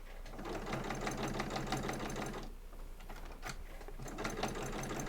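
A sewing machine stitches a cross body bag with a steady, rapid mechanical whirr, pausing briefly in the middle before the needle runs again at the same close, even pace.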